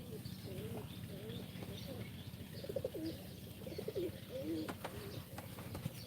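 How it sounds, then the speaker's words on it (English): Several pigeons coo softly around a nest inside an old temple being rebuilt, with repeated low rolling coos and faint chirps over a quiet, distant background. "So there's 2 or 3 pigeons around here."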